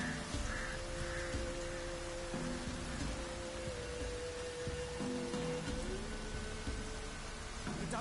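Rain in The Witcher video game pours as a constant broadband wash, with a faint tonal hum running beneath and no breaks in the downpour.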